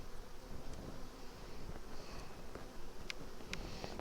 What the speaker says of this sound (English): Bees are busy, the honey flow's going.